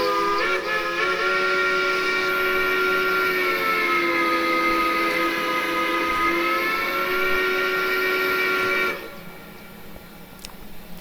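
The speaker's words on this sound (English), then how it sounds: "Really good sounding whistle." A long sustained chime-like steam whistle from a 1907 EFCB 0-6-6-0 Machine Rail locomotive in Train Simulator Classic, blowing steadily for about nine seconds, shifting pitch slightly midway, then cutting off to quieter background hiss.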